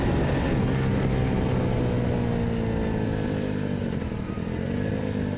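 A 2021 BOOM BD125-2 125cc motorcycle rides wide open in top gear, its small engine giving a steady, high buzzing drone mixed with wind rush throughout.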